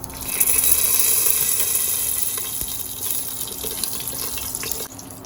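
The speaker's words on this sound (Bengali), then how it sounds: "দেখো এর মধ্যে দিয়ে দিচ্ছি আমি শুকনো লঙ্কা, তেজপাতা, গোটা গরম মশলা আর একটু জিরে।" Dried red chillies, bay leaves, whole garam masala and cumin hit hot oil for a vegetable khichuri tempering, a continuous loud hissing sizzle that slowly eases before a sharp clatter at the end.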